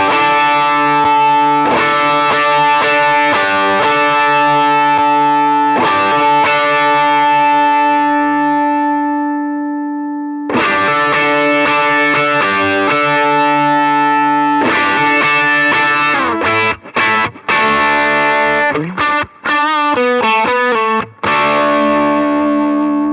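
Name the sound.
electric guitar through overdrive pedal, mids reduced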